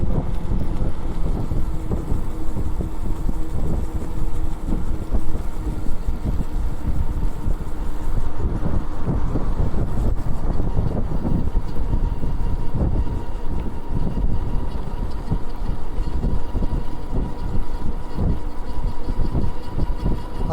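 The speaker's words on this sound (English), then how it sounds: "I can definitely hear the Aerial Rider Grizzly motor." Aerial Rider Grizzly e-bike motor while riding on Highway 99 in Oregon, heard as a continuous motor drone mixed with heavy wind rush and passing road noise, steady and loud for the whole stretch.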